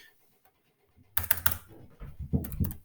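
A computer keyboard clatters with a quick burst of close keystrokes, starting after a near-silent pause and continuing in uneven clusters of taps.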